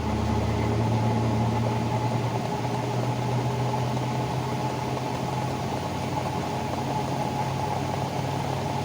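A Frigidaire Rollermatic washing machine spinning a heavy load at about 325 rpm, a steady close mechanical whir and hum with a droning tone that holds even throughout.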